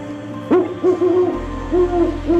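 Owl hooting close and clear, a series of soft, low, wavering calls repeated several times in a quiet setting with a faint steady hum underneath.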